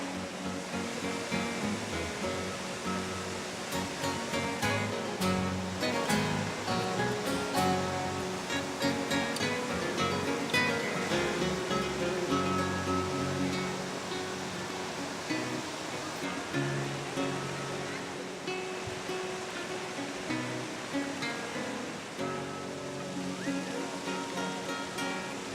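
Hot sulphurous spring water pouring down the cascades at Saturnia in the Tuscan Maremma, a steady loud rush and splash that continues throughout.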